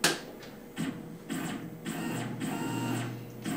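A Tormach CNC mill axis moving after a reset, its stepper-driven motion giving repeated whirring, buzzing runs that start and stop in a steady rhythm, close and moderately loud.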